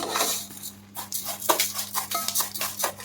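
A spoon scrapes and clinks against a pan while vermicelli fries in ghee, with repeated stirring strokes and faint sizzling underneath, close and fairly quiet.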